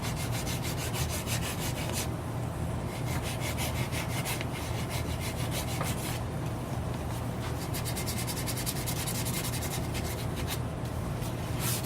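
Sandpaper rubbing steadily over a chef knife handle as it is shaped and its edges rounded, a continuous close-up rasping scratch with rhythmic back-and-forth strokes throughout.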